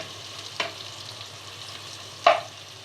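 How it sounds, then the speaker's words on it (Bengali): Onions fry in hot oil with whole cumin and garam masala, a soft steady sizzle close by, broken by two brief louder scrapes or stirs. "দিয়ে দিচ্ছি আস্ত জিরে। পেঁয়াজটা ভেজে নিলাম।"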